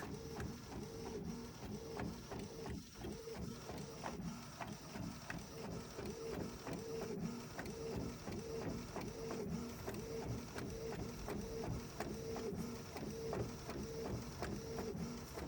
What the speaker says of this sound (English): So now I'm going to print again and place this paper in the tray